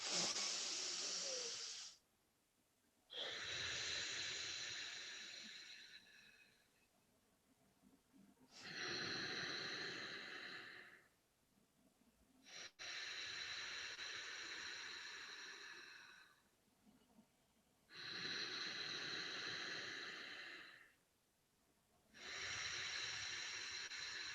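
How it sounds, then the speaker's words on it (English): Deep conscious breathing exercise with strong, long inhales and exhales, each a loud rushing breath lasting several seconds, alternating with short pauses in a slow, regular rhythm, very close. "Strong inhale, long, full breath."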